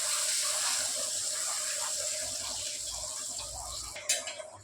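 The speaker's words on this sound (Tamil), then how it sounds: "தண்ணி ஊற்றிக்கலாம்." Water pours steadily into a cooking pot with a bubbling gush that softens as the pot fills, then ends in a short knock of the vessel.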